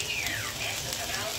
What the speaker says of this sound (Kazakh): Енді болгарскийімізді салып, барлығын жақсылап қуырмалаймыз